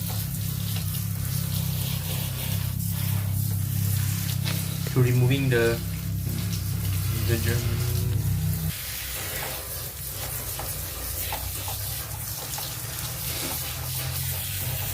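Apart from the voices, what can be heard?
water rinsing an air conditioner filter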